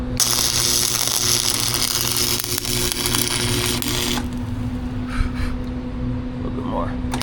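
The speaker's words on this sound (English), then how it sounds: "I'm gonna throw a bead in that crack right there to hold it." A tack bead is welded into a crack during a supercharged LS Tahoe build. Loud, close, broadband crackling hiss runs for about four seconds, then cuts off, leaving a low hum with voices in the background.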